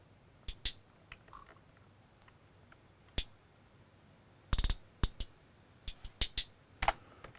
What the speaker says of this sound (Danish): Og så har jeg sådan nogle små hi-hat fills hernede.